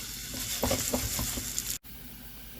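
Onion dropping into a teaspoon of heated olive oil in a pot, with a loud, hissing sizzle and a few stirring taps that cut off sharply, then resume more quietly.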